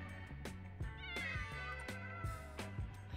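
A cat in The Sims 4 meows repeatedly, a series of close, clear, moderately loud mews in an uneven rhythm over a steady low musical background.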